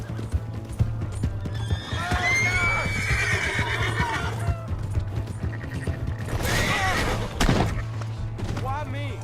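A horse in the Red Dead Redemption 2 western game whinnies loudly twice amid rapid clip-clop hoofbeats and thuds, close and busy, with game dialogue voices mixed in.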